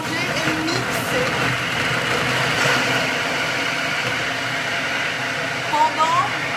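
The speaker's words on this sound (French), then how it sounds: "Je vais lancer et en fait, il va mélanger et mixer" A kitchen robot whirs steadily while mixing and blending potato waffle batter, a dense continuous hum at close range with a few light knocks near the end.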